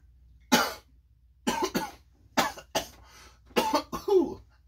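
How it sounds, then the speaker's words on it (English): A run of repeated coughs, some single and some in quick pairs, close and fairly loud with brief silences between them. "I've developed a little cough"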